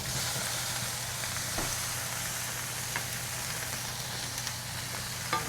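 Ginger and pak choy sizzle steadily in a hot pan, a constant bright crackling hiss with a few faint clicks and no talking.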